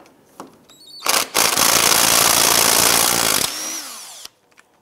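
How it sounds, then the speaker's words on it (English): A power tool with an 18mm socket spins a strut nut off a 2001-2007 Ford Escape strut assembly, giving one loud, sustained whirring burst of about two seconds that cuts off abruptly, with faint clicks before and after. "Use an 18mm socket, go ahead and remove that nut"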